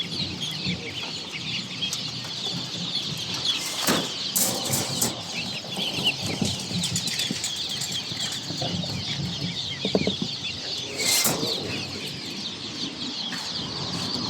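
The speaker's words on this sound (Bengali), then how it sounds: "এই যে রূপালী হাঁস, এগুলো অরিজিনাল রূপালী হাঁস" Rupali ducks and other fowl at a poultry market, a busy chorus of clucking and squawking calls at close range over constant crowd-market background noise, with a couple of sharper bursts standing out.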